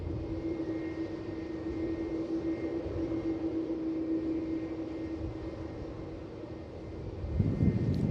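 Aircraft engine drone at Melbourne Airport, a steady distant rumble with a sustained tone, faint throughout and swelling slightly near the end, no talking.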